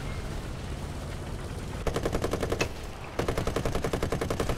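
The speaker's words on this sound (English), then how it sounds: "wasting my machine gun ammo" Rapid machine-gun bursts from an M-51 tank in War Thunder: two rhythmic strings of evenly spaced shots, loud and close, separated by a brief pause, over a low engine rumble.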